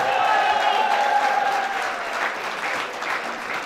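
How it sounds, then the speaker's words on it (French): Applause from an audience at a film cast presentation, a loud, dense wash of clapping that starts strong and eases slightly, with a faint tonal hum or voice underneath early on. "applaudissements"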